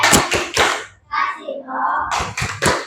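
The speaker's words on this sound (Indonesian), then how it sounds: "Kita berikan tepuk." Elementary schoolchildren in a classroom clap a short rhythmic pattern of three sharp, close claps, then chant briefly in young voices before a final run of quick claps.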